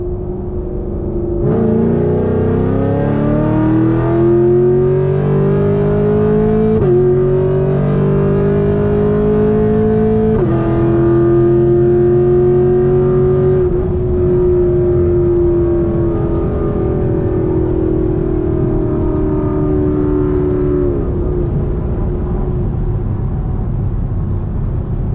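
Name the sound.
Chevrolet Camaro SS with Kooks longtube headers accelerating, 40 roll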